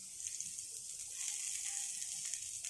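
Oil sizzling in a pan while beetroot dosa is being made, a steady soft hiss with faint crackle that carries on alone without pause.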